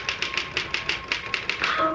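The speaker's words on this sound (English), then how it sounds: "I typed through the night." Typewriter keys clatter in a quick, regular run of sharp taps, close and clear, as a radio drama sound effect, ending with a faint tonal ring.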